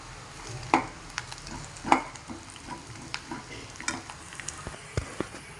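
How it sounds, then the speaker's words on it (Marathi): Onions and grated coconut roasting in a pan, a soft sizzle broken by spatula scrapes and a few louder knocks against the pan, close and fairly quiet, with no talking. "आता त्याच्यात खोबरं टाकून घेणार आहे."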